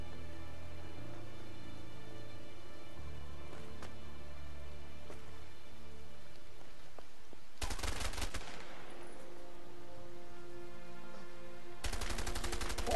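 Two short bursts of automatic gunfire in the video game A Way Out break over a quiet stretch of low game music, each burst loud, close and rattling.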